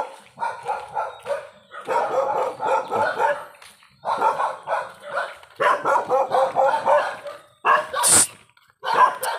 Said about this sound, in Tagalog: Daming mga aso dito.